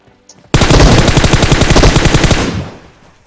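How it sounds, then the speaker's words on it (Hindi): Sustained automatic gunfire in the video game PUBG: one rapid, loud burst of evenly spaced shots lasting about two seconds, starting abruptly after a faint click and tailing off at the end, with no talk. "एक बंदे की और गोली चलने की आवाज आती है"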